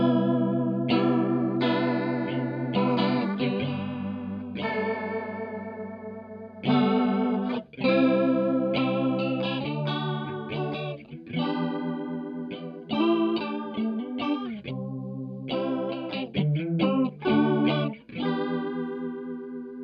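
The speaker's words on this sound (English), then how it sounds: "we'll still have more of like a square wave chorus" Waves chorus pedal producing a square wave chorus on a played synth or guitar line, wobbling and warbling on chords and single notes in uneven phrases, with no talk over it.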